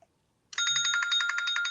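A telephone rings with a bright, steady electronic trill that starts abruptly after a moment of silence and continues unbroken, fairly loud and close, with no talking over it.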